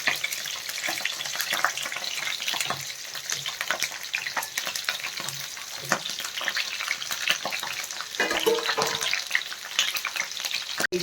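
Stuffed capsicum cooking in a pan over a low flame, a continuous close sizzle and crackle sprinkled with sharp pops and light clicks, with a brief scraping stir near the end.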